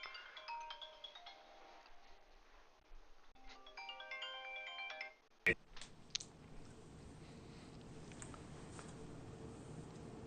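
Mobile phone ringtone playing a repeated electronic melody for about five seconds, fairly faint, then cut off by a click followed by background noise.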